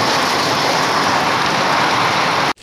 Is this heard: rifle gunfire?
no